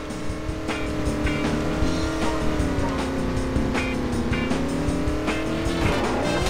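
Town car driven in The Simpsons: Hit & Run, engine droning steadily with rising and falling pitch, sharp clicks and knocks scattered across it, and a quick pitch swoop near the end.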